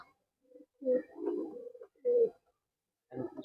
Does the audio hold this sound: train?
no